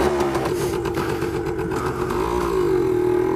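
A kickstart-only motorcycle engine runs steadily close by, with a continuous throbbing idle and slight clatter that shifts a little in pitch toward the end, and no voices over it.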